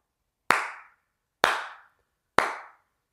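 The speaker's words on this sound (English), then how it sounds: "Clap." Three sharp hand claps land about a second apart, each crisp and close with a short decay into silence.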